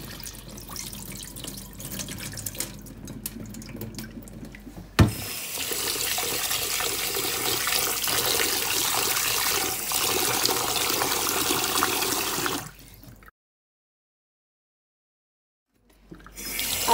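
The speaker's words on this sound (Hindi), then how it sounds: "हमने इसको 2-3 दफ़ा पानी जो है ना इसका निकाल कर इसको अच्छे से वॉश कर लेना।" Wheat grains are washed under a kitchen tap, with loud, steady running water splashing for over twelve seconds before stopping abruptly. A brief silence follows, then the flow starts again.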